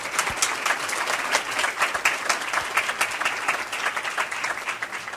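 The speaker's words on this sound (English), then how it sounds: "can we give our elected officials one more quick round of applause?" Luncheon audience applauds elected officials at a State of the State event with brisk, steady clapping from many hands, sustained and close throughout.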